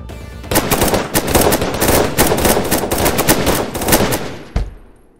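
Rapid automatic gunfire, a loud close burst of dense repeated shots sustained for several seconds before a final shot and an abrupt stop.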